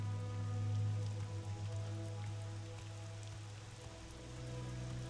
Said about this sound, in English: I like games with a lot of rain.